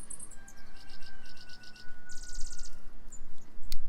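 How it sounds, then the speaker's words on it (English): Birds sing in a garden, with bursts of quick repeated chirps and trills over a faint steady hum and light outdoor background, fairly close and clear, with no talking. "the birds are getting Twitter-pated. He's singing me a song."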